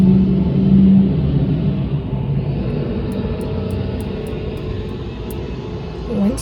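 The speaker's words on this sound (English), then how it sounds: "Winston-Salem has the loudest buses" A loud city bus in Winston-Salem rumbles past close by with a heavy engine roar that swells and fades, and a few faint ticking sounds come near the end.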